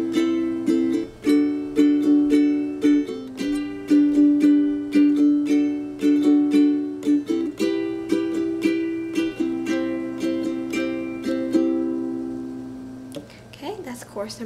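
A ukulele strums chords at the end of the second chorus of a song, with steady rhythmic strokes over ringing chord tones, close and clear, slowing and settling into a final ringing chord near the end.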